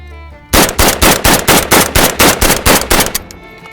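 Full-auto fire from an AK rifle: a loud, close burst of about a dozen evenly spaced shots after a brief quiet start, tailing off as the magazine empties.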